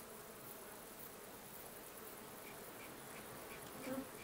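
A dense, steady buzz of honey bees swarms around hives holding tens of thousands of bees, forming a continuous faint hum with occasional individual bees passing close.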